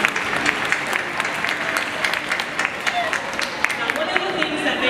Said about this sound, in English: let's give all our Dolphins team a big round of applause.